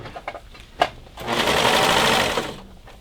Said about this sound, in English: you're going to get this piece caught into the serger and cut all the extra off